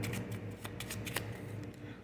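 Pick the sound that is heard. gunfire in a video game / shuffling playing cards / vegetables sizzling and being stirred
shuffling playing cards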